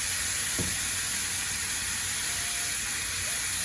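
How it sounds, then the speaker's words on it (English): Food sizzles in a hot pan with a constant bright hiss, loud and close, plus one brief clink early on. "Love that sizzle."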